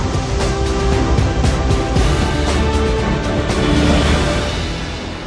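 Niagara Falls roaring, a loud, continuous, broadband rush of heavily falling water that holds steady throughout with no voices.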